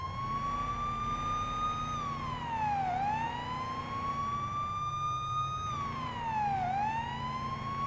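A police car siren wails in the Police Simulator: Patrol Officers game, rising and falling in two long, slow sweeps over a low engine drone. It is loud and close, with no voices over it.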